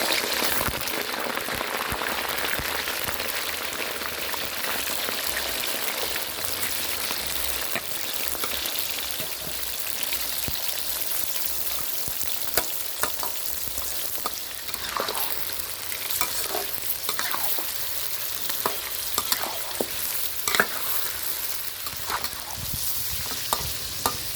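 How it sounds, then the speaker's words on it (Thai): Pork ribs deep-frying in hot oil, a continuous dense sizzle and bubbling crackle like rain, steady and fairly close, with scattered sharper pops and no talk. "พอน้ำมันร้อนแล้วเราก็นำซี่โครงหมูลงทอดเลยครับ"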